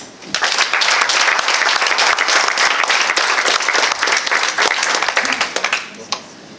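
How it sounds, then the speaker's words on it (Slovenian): Loud, sustained applause from a gathering at an employee achievements ceremony at a Ljubljana health centre administration, dense clapping for about five seconds before tapering off with a few final claps. "si pa zagotovo zaslužita en aplavz"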